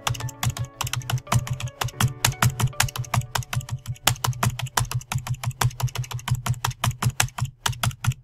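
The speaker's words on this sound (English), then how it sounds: "To begin, type the letter J." Letters typed on a computer keyboard during a typing lesson, a close, brisk run of crisp key clicks in an even rhythm that carries on without pause.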